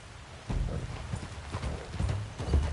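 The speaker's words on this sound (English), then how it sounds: "Okay, get on your horse." A horse's hooves clip-clop in a steady rhythmic gait in the video game Red Dead Redemption 2, moderately close and clear, with no talk during the clip.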